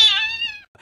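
A man imitates a cat with a voice: one loud, drawn-out meow that rises and then fades, heard alone with no other sound around it.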